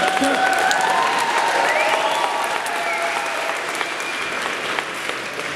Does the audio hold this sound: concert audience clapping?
yes